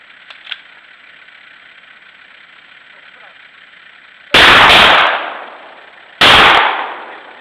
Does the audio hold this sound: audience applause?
no